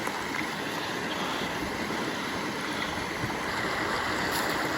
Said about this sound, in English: There's like a waterfall thing.